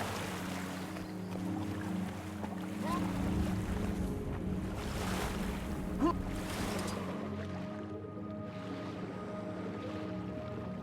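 Guild Wars 2 character wading into water, a steady wash of surf and watery rush over a low game music bed, easing off toward the end.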